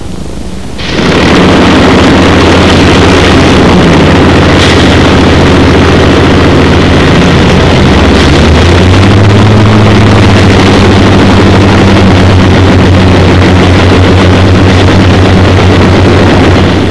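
A Hawker Sea Fury piston aircraft engine starts aboard the carrier Illustrious in 1949. It catches abruptly and builds into a loud, continuous heavy roar that deepens as it settles.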